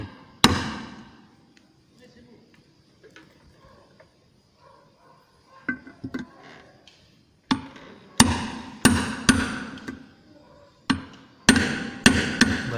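Hammer blows strike parts while a Scorpio gearbox is assembled in an automotive workshop, with scattered light knocks early, then a loud cluster of sharp, repeated hits toward the end, and voices talking in the background.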